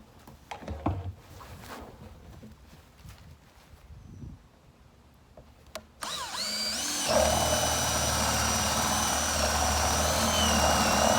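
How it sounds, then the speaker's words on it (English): A power drill whirs loudly and continuously in the second half, drilling holes through plastic, its motor pitch sliding, after a stretch of handling clatter and rustling. "we'll just use a drill and drill out the holes"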